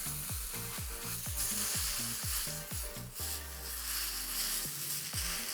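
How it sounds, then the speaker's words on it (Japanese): A 300 g piece of chashu pork sears in a small 16 cm frying pan, giving a steady, close sizzle that runs throughout under a plucked melodic backing track. "こうやってね全体に焼き目をこうやってつけていきますよ"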